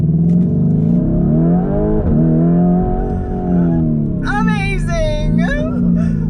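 A 2020 Lamborghini Urus, in ego mode, launches hard under launch control, its engine roaring close and loud as revs climb and shift, with excited voices breaking in over the final seconds.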